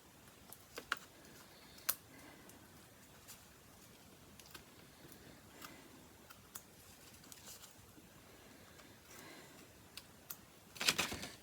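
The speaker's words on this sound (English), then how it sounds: "And I'm going to get my little curvy scissors." Small curved craft scissors snip paper in a quiet indoor setting, making a string of faint, irregular ticking clicks, with a louder, busier burst of snips near the end.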